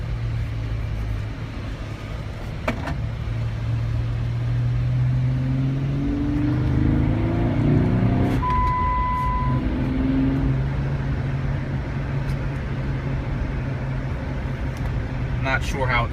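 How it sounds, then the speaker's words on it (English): Lifted, modified Jeep Rubicon with a throaty aftermarket intake and exhaust, heard from inside as it accelerates from a stop in second gear; a steady low engine drone rises and falls through the clip, with someone talking over it. "the intake and exhaust is very throaty"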